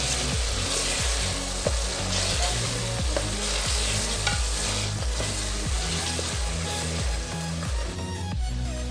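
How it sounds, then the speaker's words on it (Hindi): Big tomatoes and green chillies tumble into a pan of frying fish masala, giving a steady loud sizzle with repeated stirring scrapes throughout, no voices. "अब हम इसमें 2 बड़े साइज़ के टमाटर और 3 हरी मिर्चें डालते हैं।"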